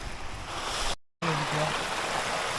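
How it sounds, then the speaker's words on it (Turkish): A small waterfall in the countryside gives a steady, close rushing of falling water, broken by a brief dropout of silence partway through. "Levent Bey, bu şelaleyi sevdiniz mi? Harika. Minik şelale."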